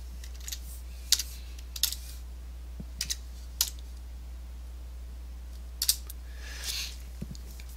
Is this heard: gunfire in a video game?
no